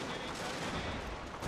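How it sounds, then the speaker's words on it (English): Massed infantry musket fire rattles in a war strategy video game, a dense continuous crackle of volleys that swells slightly at the end, with no talk over it. "Now I'm gonna get double lined infantry to fire through there."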